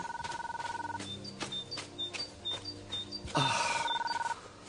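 A telephone rings indoors with repeated electronic trills, close and fairly loud, while a melodic tone line continues behind it. A louder burst of ringing comes near the end.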